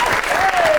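A television studio audience applauds a guest's entrance on a comedy talk show, producing a brief, dense burst of clapping at steady loudness.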